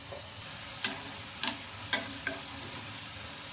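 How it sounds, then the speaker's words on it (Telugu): Grated potato kurkure fry in hot oil in a kadai with a steady, close bubbling sizzle. A few light clicks of a utensil against the pan break through the sizzle. "ఇంకా మనకు కడాయిలో ఎన్ని అయితే పడితే అన్ని అయితే వేసుకోవాలండి ఇవి కొంచెం ఫ్రై అయిన అయితే తిప్పేసుకుందాం"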